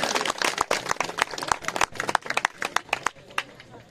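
Loud, dense clapping from an audience welcoming guests at a kirtan event in Lukapara, 2023, sharp and irregular hand claps close by, with crowd noise mixed in.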